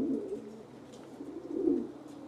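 Saharanpuri Kaldom pigeons, an excited male and female, coo in low rolling bursts close by, with a louder swell of cooing near the end and no talking.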